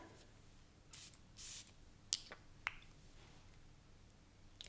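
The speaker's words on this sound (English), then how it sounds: "let me quickly spray it so I can tell you my thoughts" A few quick, soft hissing bursts of a perfume spray bottle, spaced apart, with faint clicks in a quiet room.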